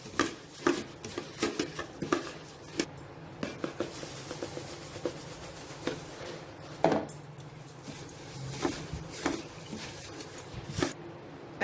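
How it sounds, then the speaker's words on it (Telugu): Puffed rice being mixed with masala in a bowl for a street-style snack, with irregular scraping, tapping and rustling from a spoon against the bowl, close and steady with no talking. "ఇలా మనం కొన్ని కొన్ని వేసుకుంటూ మిక్స్ చేసేసుకోవాలి"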